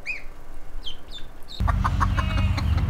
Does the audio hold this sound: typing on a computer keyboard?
no